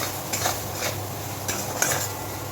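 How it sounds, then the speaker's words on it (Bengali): Spice paste for a panch phoron boal fish dish is stirred and sautéed in a pan, a soft steady sizzle under a few quick scraping strokes of a spoon, close and unaccompanied by speech. "খুব ভালোভাবে এবার মশলাটাকে কষিয়ে নেব,"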